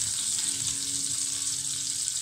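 Hot oil sizzles steadily in a pan before chicken liver goes in, a close, even, continuous hiss with no voices.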